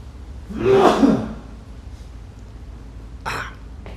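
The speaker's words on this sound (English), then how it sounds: "Got a sneeze coming." A single sharp sneeze bursts out close by, preceded by a quick intake of breath, followed by quiet and a short exhale.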